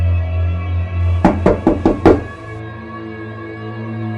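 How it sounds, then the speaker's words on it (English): Five sharp knocks on a door fall in a quick, even sequence over a steady low hum, loud and close, then fade into quiet room tone. "A knock at the door."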